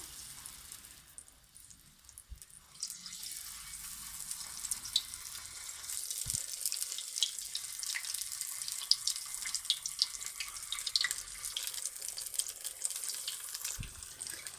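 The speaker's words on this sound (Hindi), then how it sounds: "ऑयल हमारा बिल्कुल तेज़ गर्म हो चुका है। अब हम इसमें इस तरह से डालते जाएंगे।" Spiced potato fritters dropped into very hot oil, giving a steady, loud crackling sizzle that starts after a quiet moment and holds through, with a few sharp pops along the way.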